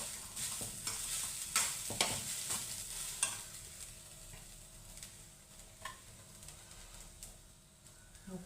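Freshly grated coconut sautéed and stirred in a pan for coconut burfi, giving a soft continuous sizzle with scraping stir strokes, louder in the first few seconds then settling into a quieter steady frying hiss.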